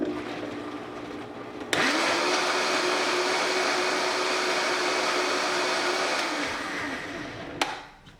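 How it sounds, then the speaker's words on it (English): An electric blender whirs steadily as it blends a mango milkshake in a closed jar, starting abruptly, holding a loud even drone for several seconds, then winding down and stopping. "we'll start to blend it into a milkshake"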